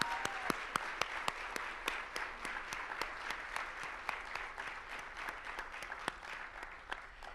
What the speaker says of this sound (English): Let's give them all a roaring round of applause.